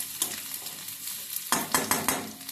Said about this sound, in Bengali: এবার গাজরটাও হালকা হালকা নেড়ে নেব আমরা